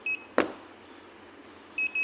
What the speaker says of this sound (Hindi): ये देखिए टच करते हैं तो इस टाइप की बज़र सुनाई देती है।